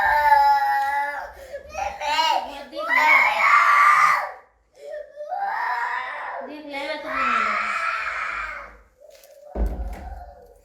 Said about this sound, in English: My baby is shouting. She want to play with all the rocks.